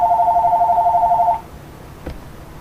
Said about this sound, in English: Who on earth is calling now?